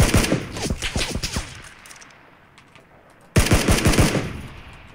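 Rapid automatic gunfire in PUBG Battlegrounds, a squad match: dense bursts of shots for about two seconds, a near-quiet gap, then another heavy volley that keeps going to the end.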